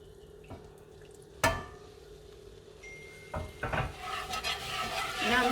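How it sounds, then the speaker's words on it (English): Chicken stock goes into a hot pan of gravy and is stirred, with a sharp clink of utensil on the pan, then rising sizzle and bubbling that grows louder and denser toward the end. "When it started bubbling, put the chicken stock into the pan."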